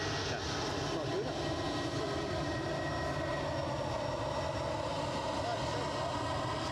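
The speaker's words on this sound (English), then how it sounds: "So I think we said this was London Gatwick, A320, Ryanair inbound" A Ryanair A320 arriving at Edinburgh Airport from London Gatwick gives a soft, distant engine drone with a faint high whine, steady and fairly quiet, while someone talks over it.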